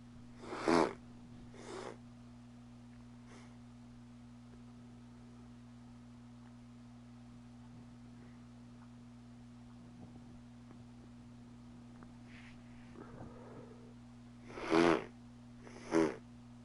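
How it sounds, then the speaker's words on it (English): Several short, loud sniffs made close to a microphone, two near the start and two at the end, sit over a steady low electrical hum with quiet game sound between them. "Sorry for loudly sniffing into the microphone."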